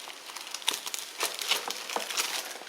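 Old paper documents and envelopes being handled, giving irregular close crinkling and rustling bursts over a few seconds.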